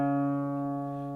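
A single plucked note, D on the fourth string of a dobro tuned to open G, rings clear and sustained for about a second, slowly fading with no other sound.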